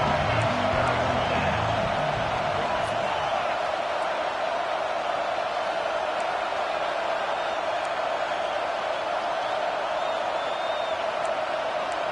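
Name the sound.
football stadium crowd cheering behind the defense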